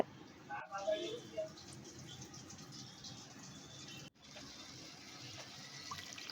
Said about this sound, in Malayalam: കുറച്ചുകൂടി വെള്ളം ഒഴിക്കുക.